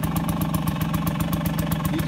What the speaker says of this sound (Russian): Теперь плавненько отпускаем сцепление до зоны проскальзывания. Об этом будет свидетельствовать изменившийся звук двигателя.